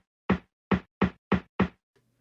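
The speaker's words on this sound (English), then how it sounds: "the next thing we want to do is put in a second snare" Five dry, rounded snare hits from a deep house track, evenly spaced in a steady pattern, soft and muted with a thuddy knock-like tone and no other sounds.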